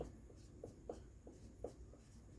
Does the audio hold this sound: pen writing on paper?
yes